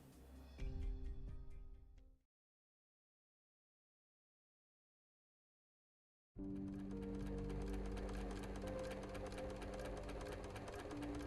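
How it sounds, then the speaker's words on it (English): A sewing machine runs in a game scene from Arknights, with a brief mechanical whir that cuts out, then after a silent gap the machine starts again with a steady, loud, continuous hum and clatter. "He silently counts the number of times the sewing machine's needle bobbed up and down."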